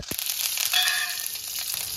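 Red chillies, curry leaves, dal and a few fenugreek seeds crackle and sizzle in hot oil, a steady close frying hiss with small pops throughout.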